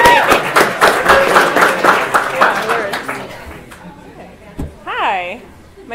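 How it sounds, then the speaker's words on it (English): Room of tech-meetup attendees clapping together for a presenter, a dense, fairly loud burst that thins out over several seconds, followed by a short stretch of voices talking. "So round of applause for Natalie."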